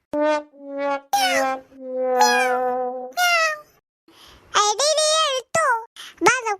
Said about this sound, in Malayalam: പൂച്ചക്കുട്ടി അത് നമ്മളെ വിളിക്കുക